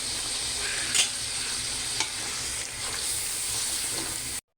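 Ginger garlic paste and garam masala fry in a pan for haleem, giving a steady close sizzle with occasional scraping stirs, then cutting off abruptly at the end.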